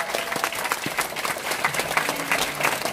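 Dense, continuous applause from an audience at the end of a lecture at a Nu Skin seminar, many hands clapping at once at a moderate, fairly distant level.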